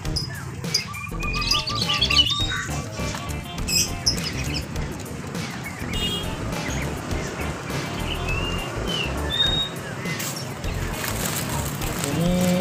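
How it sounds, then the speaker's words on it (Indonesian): Many caged birds chirp and tweet at a busy bird market in Bangko, including doves and bulbuls, with scattered high calls over a constant crowded murmur and occasional clatter, voices talking in the background. "Ini bermacam-macam burung di sini"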